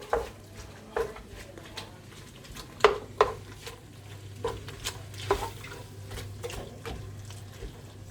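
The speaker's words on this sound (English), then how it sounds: "we're going to mix that through" A spoon works through a mixture of butter and other ingredients in a cooking pot, with soft wet squelches and intermittent knocks against the pot about once a second over a low hum.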